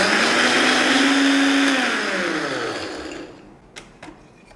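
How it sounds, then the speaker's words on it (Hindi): An electric grinder whirs loudly as it grinds salt, turmeric, ginger powder and garam masala, its motor whine steady before spinning down and fading, followed by a few faint clicks. "इन्हें हम एकदम बारीक पीसेंगे।"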